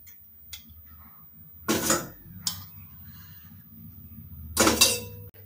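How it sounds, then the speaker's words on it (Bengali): Marinated hilsa fish being spooned into a metal tin container, giving a few bright metallic clanks and scrapes, close and separated by quiet pauses. "এই ম্যারিনেট করা মাছগুলোকে একে একে আমরা একটা চামচ দিয়ে কৌটার ভেতরে তুলে রেখে দেব।"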